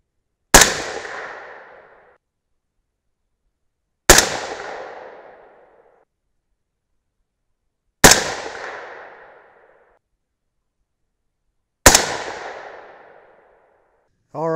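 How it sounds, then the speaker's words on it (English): Four loud, sharp 22 Nosler rifle shots ring out about four seconds apart, each followed by a quickly fading echo, with a faint voice starting at the very end. "Let's go ahead and shoot them."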